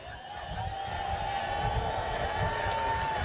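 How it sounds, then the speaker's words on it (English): Crowd cheering for the race crews at a marina during the Clipper 2023-24 round-the-world yacht race grand finale homecoming, a steady, broad roar of many voices that holds level throughout. "Big cheer for all the crews up there."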